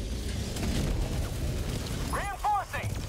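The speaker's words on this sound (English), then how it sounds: "Throw literally every grenade I have" Grenade blasts in the Helldivers 2 video game, a rumbling, boomy barrage under steady low noise, followed by a sharp sweeping burst near the end.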